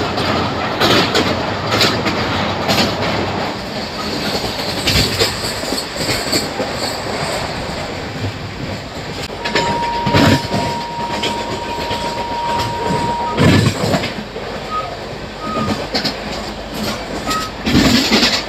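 Samta Express 12808 running on the tracks from onboard, skipping Korukonda station, with a steady loud rumble, clickety-clack of wheels, a sustained wheel squeal midway and occasional bursts of louder rattling.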